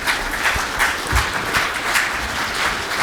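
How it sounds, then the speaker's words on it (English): Close, full applause from an audience at a cattle grower panel on drought forage management, a steady wash of many hands clapping for three seconds with a few individual claps standing out. "let's give a round of applause to these gentlemen for what they've done"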